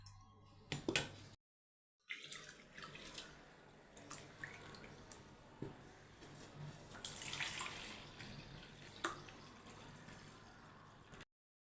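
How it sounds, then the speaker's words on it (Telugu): Rice being washed in a bowl of water by hand, ahead of soaking for dosa batter: steady close sloshing and trickling, with brief splashes and short pauses, and no talk. "1 కప్పు బియ్యం 3 కప్పులు, వీటన్నింటిని శుభ్రంగా వాష్ చేసుకుందాం."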